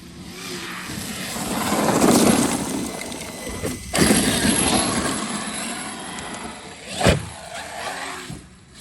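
A Traxxas X-Maxx RC truck fitted with PR Racing 1.5 gears: its electric motor surges loudly under hard throttle, then cuts abruptly as it brakes, with repeated swells and a sharp burst near the end, no talking.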